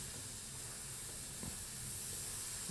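Steady airbrush spray of paint during custom artwork on a van, a continuous even hiss held the whole time without pause, close and fairly quiet.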